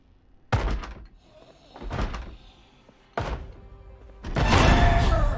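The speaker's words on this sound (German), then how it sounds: "An der Tür hier vorne klopft jemand." Heavy knocks and thuds land on a door in a zombie survival video game, coming in four separate loud bursts spaced about a second apart, with the last one a longer rattling bang.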